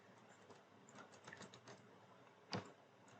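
Quiet typing on a computer keyboard as a command is entered during Laravel setup, a soft patter of keystrokes ending in a single louder key press.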